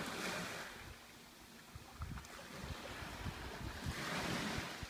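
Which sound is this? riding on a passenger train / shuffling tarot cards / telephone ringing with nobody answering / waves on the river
waves on the river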